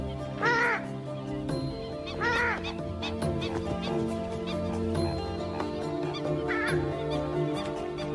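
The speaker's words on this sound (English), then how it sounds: "This is the purple swamp hen, also called the sultana bird, famed for its very loud," Loud, harsh calls of a purple swamphen ring out in three separate bursts over a steady background of outdoor noise.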